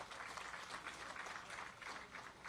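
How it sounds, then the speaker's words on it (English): Crowd applause at a Bassmaster Elite fishing weigh-in on Lake Champlain, a sustained outdoor wash of many hands clapping at steady volume, heard from a distance. "let's give her a round of applause"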